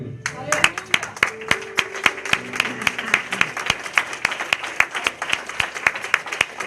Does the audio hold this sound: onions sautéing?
no